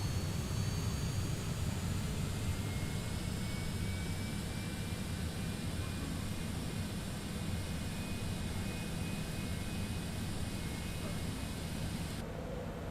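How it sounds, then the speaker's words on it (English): Citation X business jet engine spooling up at start, a steady broad roar with faint rising whine tones, continuous and moderately distant, no talking. "Let's go ahead and start engine 2."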